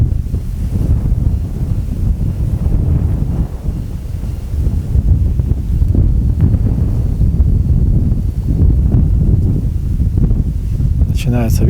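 Steady, loud wind rumble buffets the microphone throughout, a continuous low roar outdoors with a brief higher whine near the end.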